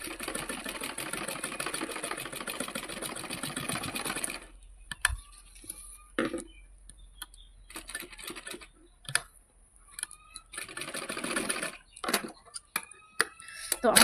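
A sewing machine stitches piping onto a blouse with a fast steady mechanical whir for several seconds, then stops and restarts in shorter bursts separated by pauses, close and fairly quiet.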